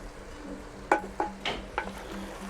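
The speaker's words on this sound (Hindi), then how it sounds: "और इन मसालों को भी अच्छी तरह से भून लेंगे।" Mutton fries in a pan with garlic, ginger, red chili, turmeric and salt, a low steady sizzle broken by several sharp metallic clinks and scrapes of a spoon stirring against the pot.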